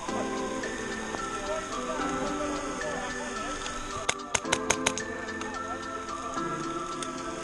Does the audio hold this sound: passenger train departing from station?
no